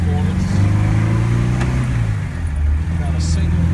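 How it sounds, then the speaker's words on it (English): A 1967 MGB GT in primrose yellow cruising at 70 mph: a steady, smooth low engine drone with tyre and road noise throughout, loud and close from inside the car. "The sound that you hear is actually the car."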